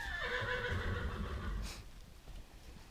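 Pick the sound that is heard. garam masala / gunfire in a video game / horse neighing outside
horse neighing outside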